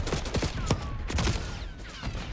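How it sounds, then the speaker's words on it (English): Gunfire in the video game Black Ops 6 during a hardpoint match: dense, continuous bursts of shots with sharp repeated cracks over busy game sound, no talking. "I'm shooting him"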